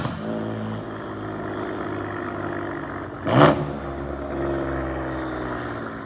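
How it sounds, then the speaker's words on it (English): A BMW M4 engine hums steadily, then a sharp rising turbo whistle surges briefly mid-clip before settling back into the engine drone. "I love the turbo whistle. It's super loud."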